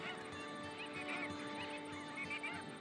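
A flock of about forty endangered New Zealand coastal birds chattering before departure, a dense continuous mix of overlapping calls, soft and somewhat distant, with no talk.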